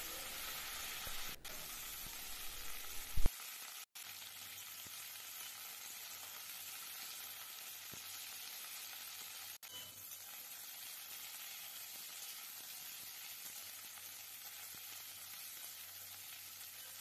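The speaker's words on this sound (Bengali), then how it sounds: "শুকনো লঙ্কাটা একটু ভাজা ভাজা হয়ে গেলে প্রথমেই আমি শিমগুলো ভেজে নেব।" Flat beans dropped into hot oil with fried dried red chillies, a loud burst of sizzle as they go in, then a steady hissing fry that carries on evenly, close and alone.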